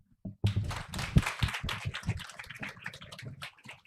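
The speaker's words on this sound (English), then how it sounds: "Give a round of applause to Lord Adair Turner once again, everyone" Audience applause following a public lecture by Lord Adair Turner on weaponized energy, a broad wash of clapping that starts abruptly, swells briefly and stays steady without voices.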